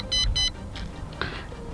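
Holy Stone HS720E GPS drone beeping a warning during return to home at low range, two quick high electronic beeps followed by fainter chirps, quiet and close with no talk.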